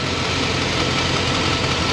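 A van engine idling steadily in a repair shop during a charging test, a constant, close, even rumble with no voices.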